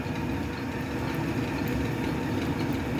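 A metal lathe runs slowly in back gear, cutting a 1-inch 8 national coarse thread with a ten-thousandths pass, giving a steady, dense mechanical drone and rumble, close and unbroken, with no talking.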